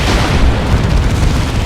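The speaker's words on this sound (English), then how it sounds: "And there's a Manticore Strike on the Plague Champion" A Manticore strike explodes in the real-time strategy video game Dawn of War 2, giving a loud, sustained, rumbling boom that fills the whole stretch with dense low-heavy blast noise.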